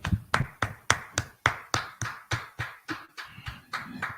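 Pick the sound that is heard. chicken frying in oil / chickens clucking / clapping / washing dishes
clapping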